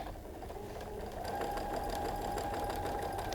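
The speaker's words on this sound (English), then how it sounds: "we'll sew these two together, so we can kind of show you that finished block" A sewing machine runs a steady straight stitch joining quilt block pieces, its fast even motor whir holding close and continuous with a rising hum partway through.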